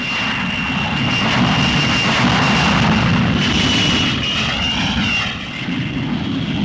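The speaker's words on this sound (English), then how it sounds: "For the Royal Air Force's famous Red Arrows, an anniversary touchdown." Red Arrows aerobatic team jets of the Royal Air Force come in to land, a loud, steady roar of jet engines with a broad rushing wash that fills the whole stretch and eases slightly toward the end.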